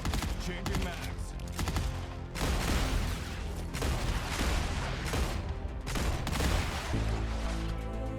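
Dense automatic gunfire from a sci-fi shooter game, with rapid overlapping bursts, heavy booms and chopping blasts running almost continuously at high volume, with brief dips between volleys.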